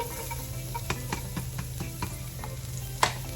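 Garlic sizzles in a small amount of oil for kare-kare sauce, a continuous close frying hiss punctuated by light pops and a louder crackle near the end.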